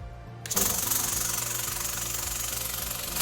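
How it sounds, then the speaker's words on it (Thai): A small air sampling pump switches on with a click and runs steadily, a close, even mechanical drone with a fast rhythmic pulse as it draws air through a rubber hose into a sample bag. "จากนั้นนะคะเราก็กดสวิตช์ได้นะคะ โดยสายยางที่ดูดอากาศนะคะ จะต้องเจาะเข้ากับแหล่งกำเนิดที่เราต้องการตรวจวัดค่ะ"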